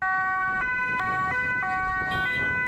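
European emergency vehicle siren sounding loud and close, a two-tone alternating wail switching pitch in a steady rhythm, with traffic noise underneath.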